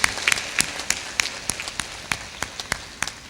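An audience claps along at a devotional bhajan and spiritual talk gathering, a series of sharp, fairly regular claps over a soft background murmur.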